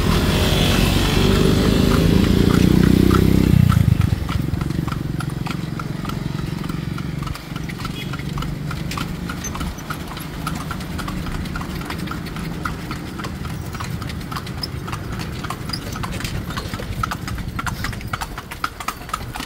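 Horse hooves clip-clop steadily on a street in Vigan, Ilocos Sur during a night calesa ride, a loud close rhythmic clatter with an engine passing early on.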